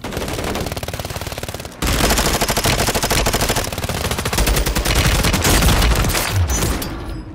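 Rapid automatic gunfire from a video game rattles in dense, continuous bursts, briefly broken near two seconds and then resuming louder with heavy booming impacts throughout.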